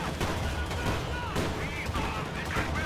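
Rapid gunfire and autocannon bursts in the Company of Heroes 2 battle, dense and continuous with sharp repeated cracks layered over a rumbling battlefield din.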